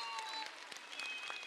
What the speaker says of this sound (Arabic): أعطونا تصفيقة على 17 تاع مالك